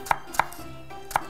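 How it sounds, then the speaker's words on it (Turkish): A knife chops through leeks on a cutting board in a cooking-show kitchen, three sharp, close, isolated knocks of the blade striking the board with pauses between them, no talking. "Hemen pırasalarımı ince ince kıyacağım."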